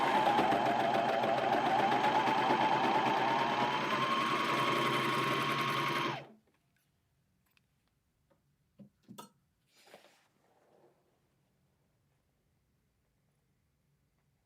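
A serger sewing through four layers of denim hums in a fast steady whir for about six seconds, close and loud, then stops, leaving quiet with a few faint clicks and handling noises.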